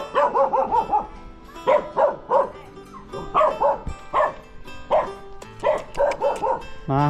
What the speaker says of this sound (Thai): สุนัขเฮาเป็นเฮาเลย